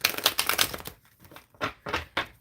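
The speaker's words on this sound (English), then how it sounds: "Shuffling for Laura" Tarot cards shuffled by hand, a close, crisp flurry of riffling and slapping card sounds in uneven bursts with short pauses between them and no voices.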